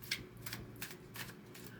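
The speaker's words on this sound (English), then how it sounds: "I want to shuffle these better." A deck of cards is shuffled by hand in a series of quick riffling bursts, about five soft rapid flutters spaced evenly, faint and close with no talk.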